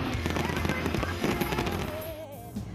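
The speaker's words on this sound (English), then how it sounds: "A fantastic display of fireworks lit up the sky to bring the evening to a close." Fireworks display closing an evening event on an island during a Miss Universe special, a dense run of loud booms and crackles with a whistling rocket rising near the end.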